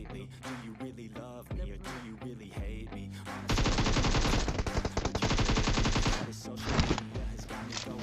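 Automatic gunfire crackles in a battle royale game, dense sustained bursts of rapid shots starting midway and running loud to the end, with game music and softer sounds before.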